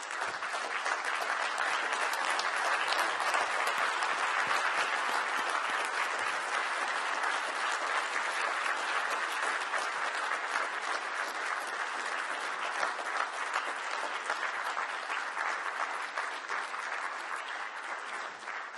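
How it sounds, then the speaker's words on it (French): A large audience at a business forum applauds French handball coach Claude Onesta, sustained dense clapping that stays loud and steady for the whole stretch, easing slightly near the end. "Je vous demande de vous lever et d'applaudir Claude Onesta."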